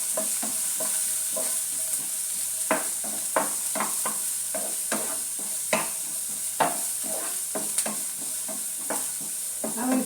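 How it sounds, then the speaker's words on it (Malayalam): Onions with garlic, dried chili and curry leaves sauté in a pan, a steady sizzle broken by a regular run of scraping stirs, close and fairly loud, with no talking. "ഇതൊന്ന് നല്ല രീതിയിൽ വഴറ്റിയെടുക്കണം."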